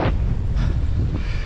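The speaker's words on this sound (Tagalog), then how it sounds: "Lakas pa ng hangin." Strong wind buffets the microphone in loud, continuous low rumbling gusts, with brief hissing surges and no voices, while riding a motorcycle on a mountain road.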